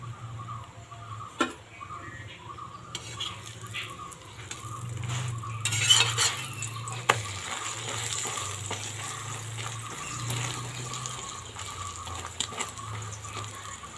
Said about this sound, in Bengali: এবার আমি আঁচটা বাড়িয়ে দিয়েছি, এটাকে একটু ভেজে নেব